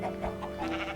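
A short bleat from a meat sheep in a modded video game, quick and wavering, over a low background hum.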